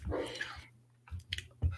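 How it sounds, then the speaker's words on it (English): Pug dogs barking indoors in a house, a few short sharp yaps and snuffling bursts separated by brief quiet gaps, fairly close. "Pugs in the house."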